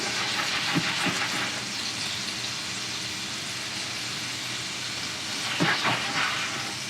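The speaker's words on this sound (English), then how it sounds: "Swirl the brandy around the pan. Return to the heat. Be careful, the brandy may ignite." Brandy sizzles in a hot pan for steak au poivre, giving a continuous broad hiss at steady volume with a few faint clinks and small bursts of sputtering.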